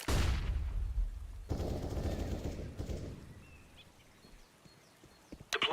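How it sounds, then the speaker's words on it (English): A flashbang grenade goes off in a video game with a loud, sharp burst followed by ringing, among gunfire and chaotic noise. "Throwing flashbang."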